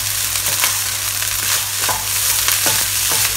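Thai pineapple fried rice with chicken and shrimp being stir-fried, a dense, loud continuous sizzle with repeated scraping tosses of the spatula in the pan, close up and without talk.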